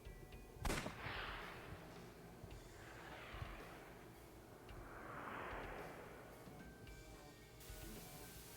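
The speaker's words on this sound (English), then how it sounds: "I'll try shooting it." A single sharp gunshot in the video game AI: The Somnium Files, one sudden loud crack early on, followed by a low, washy ambient hum and soft swelling whooshes with no talking.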